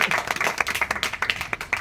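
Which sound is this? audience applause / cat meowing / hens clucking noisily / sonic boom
audience applause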